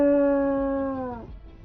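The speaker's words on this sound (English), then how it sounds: "an enormous jet-black wolf bares its teeth, howling a challenge towards the waiting Minotaur" An enormous jet-black wolf in Choices: Nightbound gives one loud, close, sustained howl. The howl holds steady, then slides down and breaks off.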